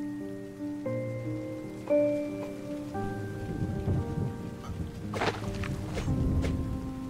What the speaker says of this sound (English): Just like the little storms in the background